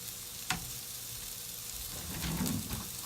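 Onion and garlic sizzle in a frying pan, a steady soft hiss with a couple of brief clinks from stirring and a slight swell toward the end.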